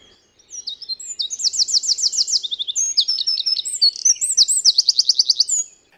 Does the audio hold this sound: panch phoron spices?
no